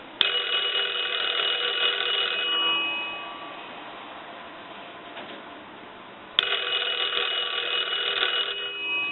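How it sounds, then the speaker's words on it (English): An antique Kellogg wooden wall crank telephone, 1901 patent, rings its mechanical bells loudly in two long bursts, a steady jangling trill that pauses briefly before starting again. "ring them like an incoming call is coming in."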